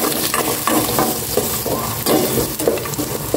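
Carrots and potatoes frying in a pan, a loud close sizzle broken by frequent scraping stirs and small clatters, with no talking.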